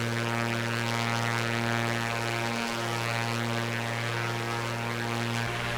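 A2A Aerostar 600 twin engines drone steadily in flight inside a simulator game, a constant propeller hum with strong sustained tones, even and unbroken throughout with no talking.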